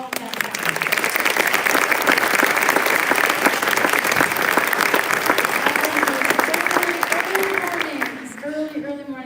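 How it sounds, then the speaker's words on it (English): Audience at a public school senior celebration gives a long, loud round of applause for the graduating seniors, sustained and dense, with a voice and faint music emerging as it fades at the end. "would you please give them a round of applause for all of them?"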